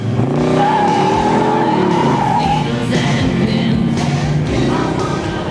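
Vintage limited-production racing cars roar past on a circuit at Top Gear in 1989, engines loud and continuous with shifting revs and a sweeping pass, no voices over the sustained mechanical din.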